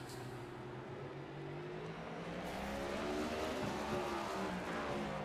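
Race cars circle the track in the B main heat at the LA Coliseum Clash, several engines droning and revving together in a loud, continuous, shifting roar with no voices.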